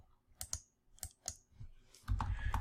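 Quick bursts of typing on a computer keyboard, scattered key clicks in short clusters, followed by a louder, denser rattle of keystrokes near the end; close and fairly quiet, with no talking.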